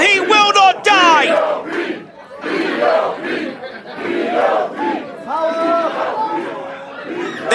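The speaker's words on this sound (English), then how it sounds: "This crowd growing hoarse from the POP chants." A crowd at a Nordic Elite Wrestling show roars and chants loudly after a dramatic kickout, voices growing hoarse, with shouts and cheers rising and falling throughout.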